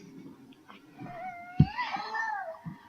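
A cat meows during a clown puppet show: one loud, rising and falling meow, clear and close against a quiet background, with a short thump just before it.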